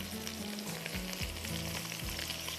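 Dark soy sauce hits beef frying in a hot wok, a loud continuous sizzle with stirring scrapes and low knocks running throughout.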